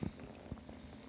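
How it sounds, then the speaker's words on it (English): A kitten purrs softly and close, a faint low rumbling with a few soft pulses over a quiet background. "Those are cute little kitten purrs."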